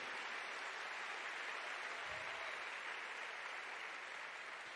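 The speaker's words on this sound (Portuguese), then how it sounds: "Dale bien fuerte ese aplauso." Church congregation applauding during a worship service, a faint, even wash of distant clapping sustained without pause.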